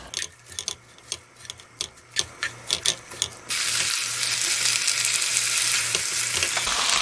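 Minced garlic and chopped green onion in a spoonful of cooking oil: a run of sharp spatula taps and clicks gives way to a sudden, steady loud sizzle of stir-frying.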